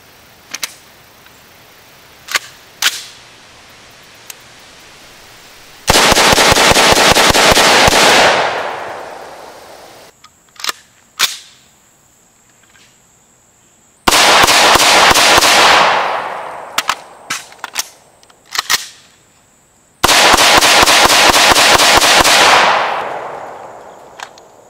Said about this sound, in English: I'm gonna run a couple rounds through it just so you can see how she does.